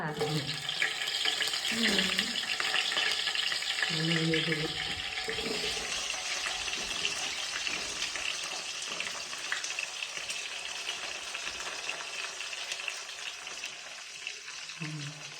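Cumin seeds and green chillies sizzle in hot oil for uppitu, a steady crackling hiss with bursts of voices talking over it at the start and end.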